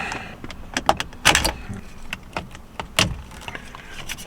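A steering wheel control being unclipped and pulled out of a 10th gen Honda Accord steering wheel, a series of close, sharp plastic clicks and snaps with a couple of louder knocks.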